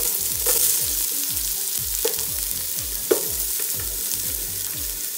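Onions fry in oil in a wok, a continuous loud sizzle with a few soft clinks and one sharp tap, no voices.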